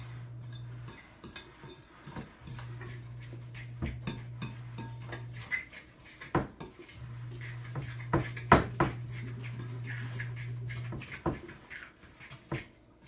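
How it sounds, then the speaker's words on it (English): Keto biscuit dough is stirred in a bowl with a fork, giving irregular scraping and light clinking taps at close range. A steady low hum runs underneath in stretches. "Just mix and mix and mix and mix."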